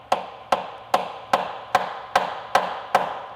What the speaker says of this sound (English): you just want to strike it pretty square so you don't slip or you damage